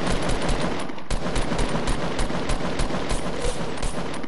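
Automatic weapon fire in the video game Fortnite, with rapid, continuous bursts of gunshots and a few sharper cracks rattling steadily throughout at a loud level.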